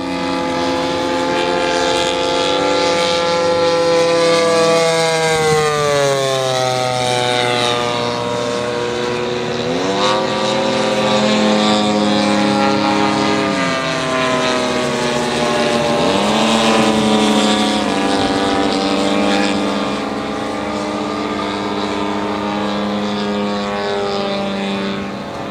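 Radio-controlled model airplanes at the Joe Nall airshow give a loud, continuous engine drone whose pitch rises and falls as the planes pass, heard alone with no voices.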